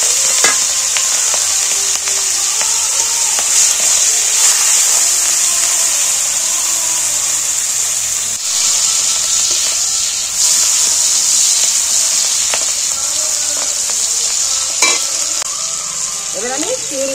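Prawns rubbed with salt and turmeric fry in hot oil with a loud, constant close-up sizzle, punctuated by occasional scrapes and taps of a utensil against the pan.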